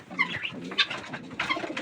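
Pigeons coo softly while they eat, several low throaty calls overlapping in short rounded bursts against a faint background, fairly close and moderately quiet.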